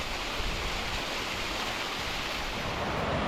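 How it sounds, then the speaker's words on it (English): A small creek flowing into the Lac Cha River makes a steady, full rushing wash of water without pause, fairly loud and close. "Here's another little creek that flows right into the Lac Cha River."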